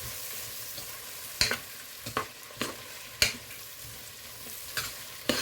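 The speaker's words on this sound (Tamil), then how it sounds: "மஞ்சள் தூளையும் போட்டு நல்லா பிரட்டி விட்டுறேன்" Onions with turmeric powder are stirred in a hot pan, giving a soft steady sizzle broken by several sharp scraping stirs spread across the stretch, with no talking.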